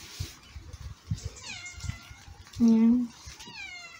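A mother cat meows once, loud and close, in a quiet indoor room. Soft talk comes before and after the meow.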